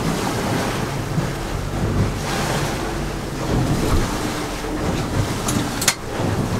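Continuous rush of wind and surf as a boat moves through ocean waves, steady buffeting noise close to the microphone with a brief thump near the end.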